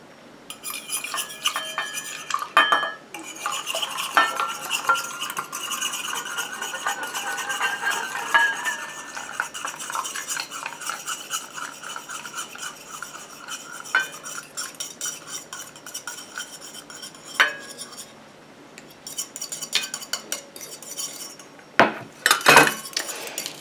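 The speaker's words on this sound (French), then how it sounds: "Et je mélange comme ça jusqu'à ce que mon émulsion refroidisse et épaississe." A utensil stirs a cream emulsion of water and oil phases in a bowl, with continuous scraping and clinking against the sides and occasional sharper knocks, close and steady with no voices.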